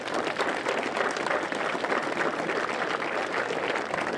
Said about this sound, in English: I think they all deserve a round of applause as well